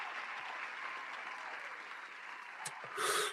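A faint, steady patter of applause from a small group, continuous throughout with a brief louder burst of noise near the end.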